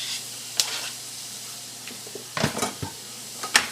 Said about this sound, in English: Let's throw these onions in here and just fry them just a little bit